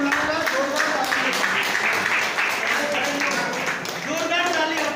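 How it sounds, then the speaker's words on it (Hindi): Audience applause at a business motivational event, a dense patter of clapping from a crowd that runs throughout, with people talking and shouting over it. "जोरदार ताली, आपकी ताली होनी चाहिए।"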